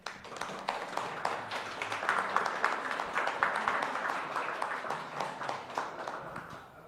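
A modest audience claps at the eve ceremony of a Korea-Japan steak cookoff in Korea, with distinct, scattered hand claps forming a light, uneven round of applause at moderate distance.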